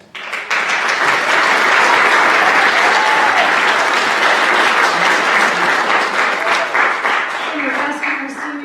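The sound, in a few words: audience applause at a concert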